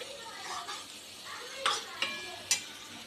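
Pav bhaji masala cooks in a pan over a low flame, with a soft sizzle and a few sharp clinks of a spoon against metal while someone talks throughout.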